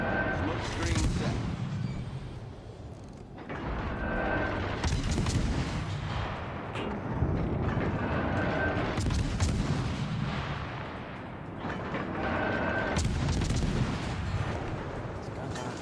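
Naval guns firing in a warship video game, heavy booming salvos rolling out in repeated bursts every few seconds, with someone talking over the gunfire.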